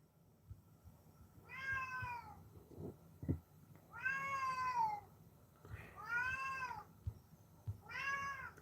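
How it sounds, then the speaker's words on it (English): A cat meows repeatedly indoors, four drawn-out wavering calls spaced a second or two apart, fairly close, with faint knocks and rustles between them. "I need to give this cat water."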